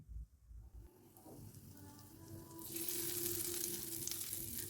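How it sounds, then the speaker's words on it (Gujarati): Hot tempering of asafoetida and Kashmiri chili poured over a Gujarati moong dal and spinach dish, starting with faint clatter and then breaking into a loud, steady sizzle that fills the second half. "હવે આ વઘારને શાકની ઉપર રેડી દઈશું."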